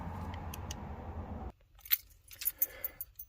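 Car keys jangle close by in a Dodge Grand Caravan after a steady low rumble cuts out, giving a few sharp metallic clinks and rattles in quick, uneven bursts.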